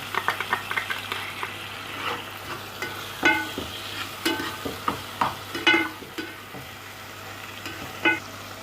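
Tomatoes and green chillies frying for aubergine bharta, a soft sizzle broken by irregular stirring clinks and scrapes of a spoon in the pan, close and moderately loud.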